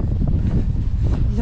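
Strong wind buffets the microphone during a 92 km coastal trail ultramarathon in the Côtes d'Armor, a steady low roaring rush that fills the brief moment.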